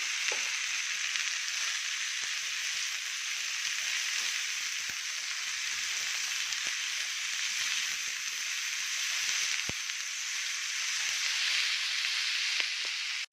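Continuous, even sizzling of food frying in oil, close and fairly loud, with faint crackles throughout and no talking.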